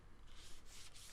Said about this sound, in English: So I had to sand it off again.